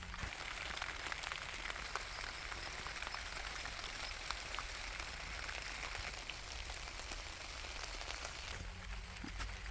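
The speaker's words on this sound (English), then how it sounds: "rain is pouring so hard." Heavy rain pours steadily over a vegetable garden with loofah and watermelon plants, a dense, continuous hiss of drops on leaves and surfaces throughout, with no talking.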